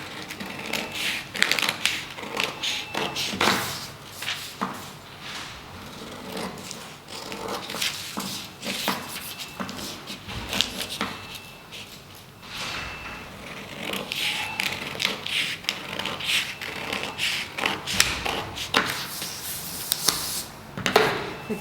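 Scissors snip through a paper collar pattern in repeated crisp cuts, with rustling paper handled close by throughout.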